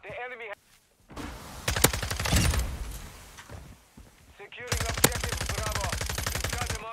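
An automatic gun sprays bullets in Modern Warfare 2, two long bursts of rapid, loud gunfire split by a short lull with clicks and clanks, while a player's voice talks under the shooting.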